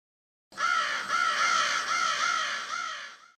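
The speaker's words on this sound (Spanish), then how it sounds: "Los cuervos graznaron." Crows caw repeatedly and clearly, giving a steady series of five or six harsh calls close by, with nothing else heard.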